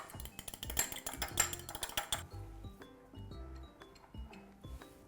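Egg whisked in a bowl for brushing homemade burger buns, a quick run of clinking taps against the bowl that eases into sparser, lighter ticks, close and without talk.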